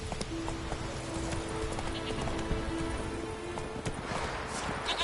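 Horse hooves gallop in a steady clip-clop rhythm through The Witcher 3, close and continuous under a faint hiss of rain, with a sustained tone running behind it.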